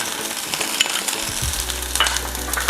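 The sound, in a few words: shallots frying in hot coconut oil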